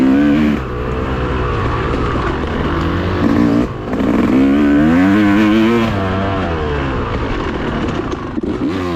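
An enduro dirt bike ridden on a rough, tight trail at the Cherokee National Enduro: a close, loud engine revs up and down in rising and falling pulls, with no talking.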